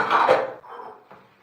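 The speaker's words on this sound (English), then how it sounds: "I hate doing dishes after eating." Dishes, pots and cutlery clatter during washing up in a home kitchen, a loud close burst of clanking followed by two softer knocks.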